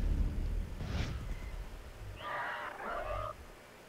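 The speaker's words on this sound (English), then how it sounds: "I hear them birds squawking again." Bird squawks in the Far Cry 3 jungle, a short harsh call followed by a longer burst of raspy squawking, moderately close over quiet ambient background.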